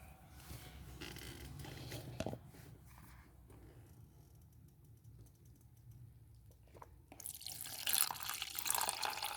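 Soaked chickpea water being poured into a container, a light dripping, trickling flow with a few faint clatters, then a brighter splashing rush near the end; no one talks.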